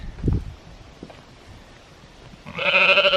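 A sheep in a paddock of rye and vetch lets out a loud, wavering bleat near the end, after a quiet stretch with a soft thump and light rustling.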